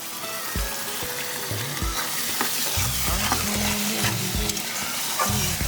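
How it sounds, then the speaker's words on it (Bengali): Spice masala with sugar and salt sautéing for a boal fish curry, with steady frying sizzle under repeated scraping stirs of a spatula in the pan, close and continuous with no talk. "তো এবার মশলাটা কিন্তু আমি একটু কষিয়ে নেব"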